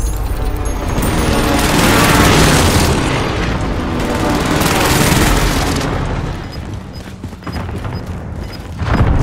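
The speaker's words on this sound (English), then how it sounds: "Allied precision airstrike is coming." Allied precision airstrike in Call of Duty Warzone Pacific on Rebirth Island: heavy, loud booming explosions roll in overlapping waves for several seconds before fading to quieter rumble.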